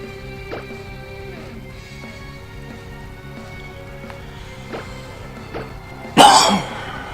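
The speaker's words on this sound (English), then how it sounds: "I do apologise for my coughing." A person with a heavy cold coughs and clears their throat a few times at low volume, with one sharp, louder cough burst near the end.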